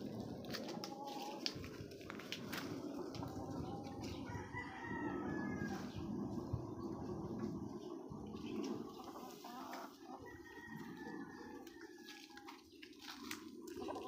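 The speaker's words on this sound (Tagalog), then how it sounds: "Yan yung mga manok na natin guys." Chickens with a rooster crowing outdoors in the early sun, repeated crows and clucks over a steady background of other birds and faint running water, no one speaking.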